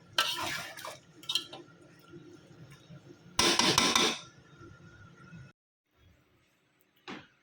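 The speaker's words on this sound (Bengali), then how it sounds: "এখন আবারও ভালোভাবে মাংসটা কষাই নিব" Meat and potatoes being stirred and sautéed in a pot, clattering scrapes of a metal spoon against the pot in short bursts, with a longer loud scraping stretch, then near silence and one last clink.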